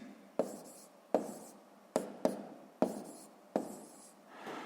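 A pen writing numbers on paper for a column multiplication sum: six distinct scratchy strokes, each starting with a sharp tap and trailing off, close and fairly quiet with no voice over them.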